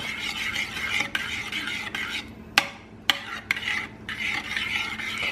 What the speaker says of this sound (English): You want to stir it until that egg is well incorporated into the liquid.